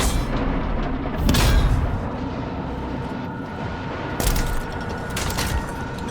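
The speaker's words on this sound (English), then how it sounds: "Oh, it's a cannon, alright." Cannon blasts from the video game Doom: The Dark Ages, two heavy booming shots several seconds apart over a dense, loud rumbling game soundscape.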